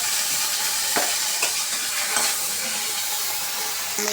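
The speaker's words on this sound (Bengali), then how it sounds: "এখন আমি এটাকে একটু ভেজে এখানে ঢেলে নেব।" Coriander leaves fry in a hot pan with a dense, steady sizzle and a few soft stirring scrapes, close and loud with no voices.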